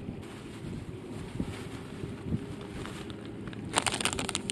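Wind gusts buffet a microphone outdoors, a steady low rumble with light rustling, sharpening into a brighter burst near the end.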